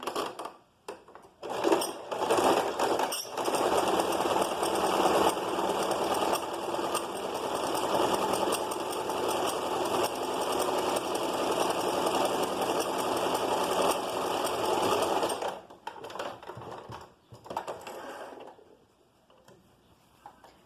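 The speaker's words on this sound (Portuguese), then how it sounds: "Quem tiver overlock, faz no overlock, e aqui eu vou fazer na zigue-zague." Sewing machine running a zigzag stitch along a fabric edge, a loud steady mechanical whir for about fifteen seconds after a few short starts, then stopping with brief bursts and clicks.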